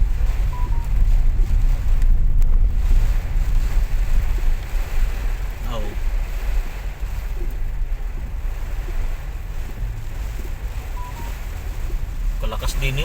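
Strong wind blows steadily in Rosario, Batangas, with a constant roaring rumble of gusts against the microphone and occasional faint voices underneath.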